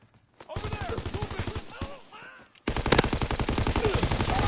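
Rapid automatic gunfire rattles in a video game firefight, a tight rhythmic burst, a short pause, then a louder, denser stream of shots continuing to the end.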